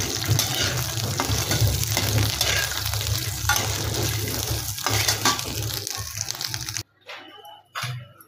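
Makhana (fox nuts) being dry-roasted and stirred in a pan over a low gas flame, giving a steady close rustling sizzle with scraping stirs that stops abruptly near the end, followed by a few brief clatters.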